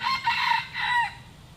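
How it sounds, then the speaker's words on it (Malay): Chicken at a bird park crowing nearby, two drawn-out rooster-like calls in quick succession, loud and clear over faint background noise. "Mana datang ayam ni?"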